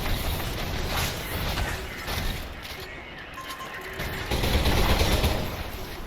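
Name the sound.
pistol gunshots in the video game Selaco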